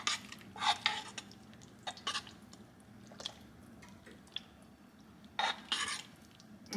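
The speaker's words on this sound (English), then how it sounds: "Pop that in there. Give it a nice stir around." A spoon stirs Dijon mustard into soup in a pot, giving a few soft clinks and scrapes against the metal in scattered bursts over a low, steady background.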